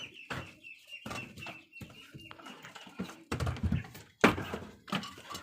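A hen of Indian or Hejazi chicken breed clucks in short, repeated bursts nearby, mixed with thumps and scratchy handling noises in a coop.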